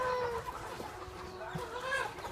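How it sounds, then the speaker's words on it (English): A chicken on a farm clucks in a few faint, short calls against quiet outdoor background noise. "Chicken."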